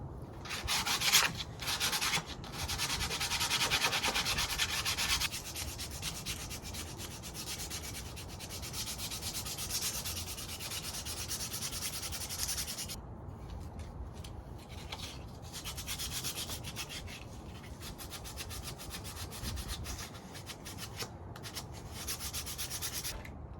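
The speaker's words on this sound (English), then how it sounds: "Just got a piece of 120 grit sandpaper here. Now I'm just going to go at this until it feels real nice in the hand." Sandpaper of 120 grit rubbing steadily along a wooden axe handle, a continuous scratchy hiss in long back-and-forth strokes, close and fairly quiet, with no talking.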